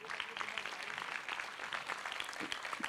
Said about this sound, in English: a little more dum in your clapping, a little more noise to welcome the teachers